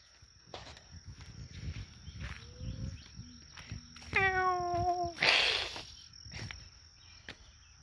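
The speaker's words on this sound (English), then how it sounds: "The cat don't like you, Joe." A cat gives a single drawn-out meow amid quiet indoor sounds, with a steady high electronic whine, soft shuffles and a brief burst of rustling noise following it.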